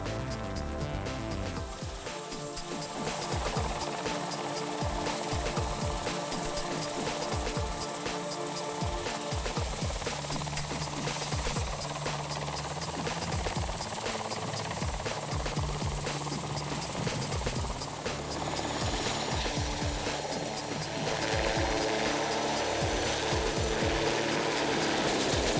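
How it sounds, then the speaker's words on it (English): A military transport helicopter's rotor thumps steadily and its engine whines throughout, loud and continuous. "a transport helicopter is often used"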